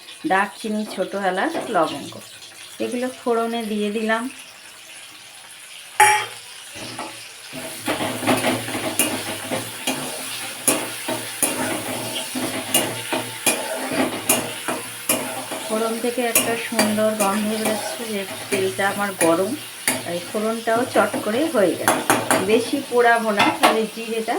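Bay leaf, whole cumin and whole garam masala tempering in hot oil for a Bengali cauliflower dalna, a steady sizzle and frying hiss with stirring and clanks of the pan while a person talks over it.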